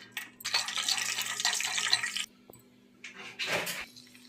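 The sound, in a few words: cashews frying in hot oil in a pan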